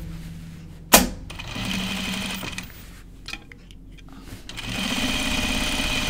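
A sewing machine runs steadily while stitching Ginger jeans, a close, continuous mechanical whir that fades in after a sharp knock, dips briefly in the middle, then resumes at full speed.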